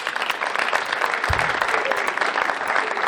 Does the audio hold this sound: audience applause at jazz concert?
yes